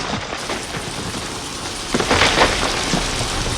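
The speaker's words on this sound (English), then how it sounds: "And we officially have a thunderstorm." A backyard thunderstorm brings steady heavy rain hissing on surfaces, with a low rumble of thunder swelling partway through, heard alone without voices.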